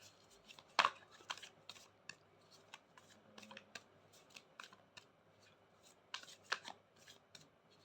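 Tarot cards are shuffled close by in quiet, uneven bursts of crisp riffling and soft slaps, with brief pauses between shuffles and no talking.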